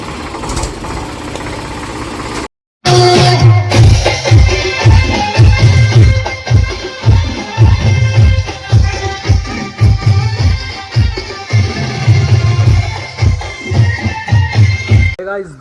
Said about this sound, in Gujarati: જો ટ્રેક્ટર